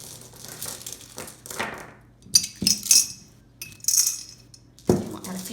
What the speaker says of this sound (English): I also am going to add some of my glass gems, and that weights your vase so it won't flip over.